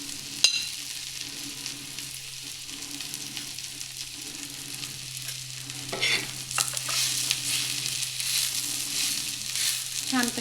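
Onion and grated coconut sauté in a pan for a spicy patodi bhaji, with steady sizzling and frying, occasional stirring scrapes, and a louder burst of spoon-on-pan stirring toward the end; no talking.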